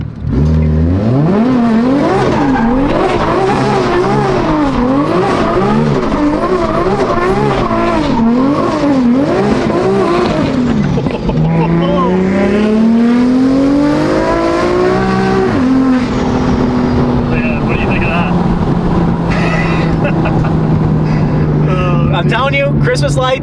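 A loud BMW M4 engine, a 900-horsepower built motor, revs up and down during a U-turn, rising and falling in pitch as the car turns, then settles into a steady drone.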